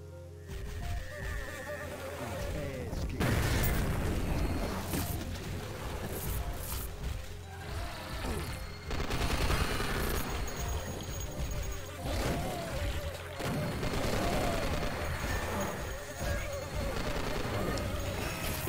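Chaotic gunfire aimed at a wizard in a Duke Nukem mod, continuous dense bursts and crashes of loud game combat over a rumbling mechanical backdrop, with no pauses for nearly twenty seconds.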